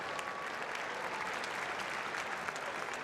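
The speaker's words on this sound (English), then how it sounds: "And now please, one more round of applause for the Bill Lewis Scholarship winners, Melissa Pajensky and Gage Rethwish" A basketball crowd applauds scholarship winners at halftime of a boys' state championship game, a steady, dense clapping wash that fills the arena evenly throughout.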